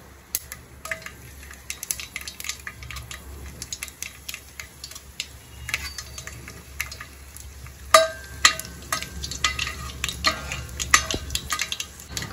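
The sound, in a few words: mustard seeds spluttering in hot oil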